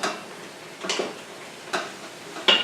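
Mushrooms are stirred and sautéed in a pan, with a soft continuous sizzle broken by three scraping strokes of a utensil at a steady spacing, close up with no talking.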